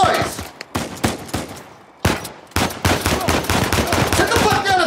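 Gunfire in Uncharted 4, loud rapid bursts of automatic shots and single cracks in quick succession with brief pauses, close and dense.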